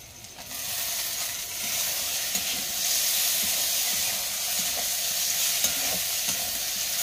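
Chicken masala frying and being stirred in a pan, a steady loud sizzle and hiss with faint scraping, no talk.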